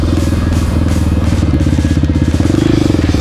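A Honda XR650R supermoto's single-cylinder engine revs hard and close, a loud pulsing thump that rises in pitch toward the end.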